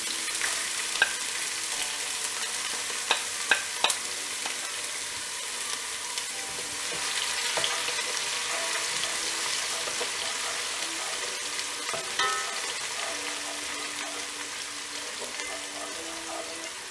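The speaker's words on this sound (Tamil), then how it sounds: "இப்போ இதில் வெங்காயம் ஆட் பண்ணிவிட்டு இதை நல்லா வதக்கிடணும்." Onions and curry leaves sautéing in a pan of oil for a lentil-ball kuzhambu, giving a steady close sizzle with occasional scraping stirs and small clicks, no voices.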